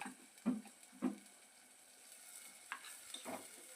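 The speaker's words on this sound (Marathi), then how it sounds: "आता कांदा खोबऱ्याचं वाटण घालून ते पण आपण असं मस्त तेल सुटेपर्यंत परतून घ्यायचं." Onion and grated coconut paste being sautéed in oil in a pan for a Maharashtrian amti, a few soft scraping stirs and low sizzling, close and fairly quiet with gaps between strokes.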